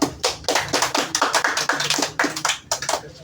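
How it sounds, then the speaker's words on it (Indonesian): Children clapping hands in a classroom learning activity, a ragged, rhythmic series of loud, close claps with brief pauses between bursts. "Tepuk tangan dulu."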